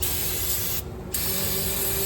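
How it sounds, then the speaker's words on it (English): Brake parts cleaner sprayed from an aerosol can around a classic car's engine bay, a loud continuous hiss with a short break partway through before it resumes, with no talking. "we're going to use a little bit of brake parts cleaner, is what I prefer to use. So we can spray around in these areas."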